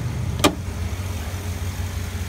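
A 2013 Ford Raptor's 6.2-litre V8 idles with a steady low rumble throughout, broken by one brief sharp click near the start.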